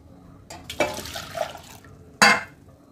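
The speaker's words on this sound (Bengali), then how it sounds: "এইভাবে চিপে চিপে জলটা বার করে নেব।" Water is squeezed by hand out of chhena, the fresh cheese curds for kheer kadam, giving short splashy trickles and drips into a vessel close by, with a louder wet splash near the end.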